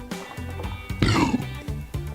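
A man lets out a short, low guttural burp after drinking 8-Bit Pale Ale beer from Tallgrass Brewing, close and fairly loud, set among brief throaty vocal noises.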